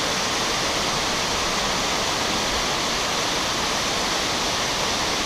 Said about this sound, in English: Panther Creek Falls.